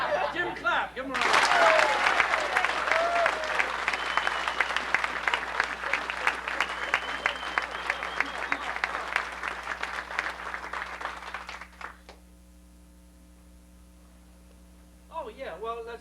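Audience applause at a pressure-point martial-arts seminar, a dense, loud burst of clapping that swells, holds for about ten seconds and cuts off, with some laughter and talk woven through and a voice returning at the end.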